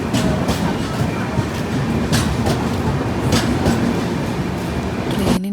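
A moving passenger train rolls along with a continuous close rumble and a faint rhythmic clickety-clack of wheels on rail joints, steady throughout.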